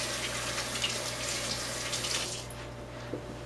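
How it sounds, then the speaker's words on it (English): A kitchen faucet runs steadily while hands are rinsed clean of raw egg. The water makes a close, even hiss, and then the flow is cut off near the end, leaving a quiet hum and a small clunk. "I'm going to rinse my hands real quick because I was working with raw egg."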